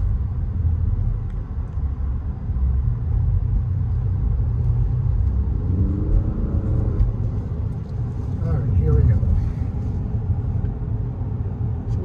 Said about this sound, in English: we're in sport mode. The car's a little bit louder.